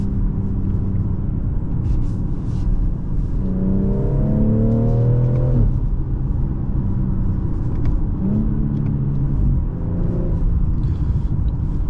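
A 2024 BMW X4 M40i engine growls loudly from inside the cabin while driving, a steady heavy rumble with rising revving sweeps as it accelerates through the gears, a couple of distinct climbs and drops in pitch.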